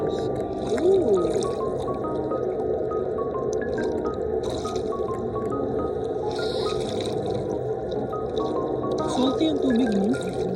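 Water runs and drips steadily from a tap while a face is washed, with a continuous trickle and some splashing underneath a muffled voice.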